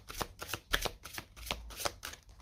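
Oracle cards are shuffled by hand in quick, soft riffling bursts, about a dozen light rhythmic flicks in close succession, fairly quiet and with no talking.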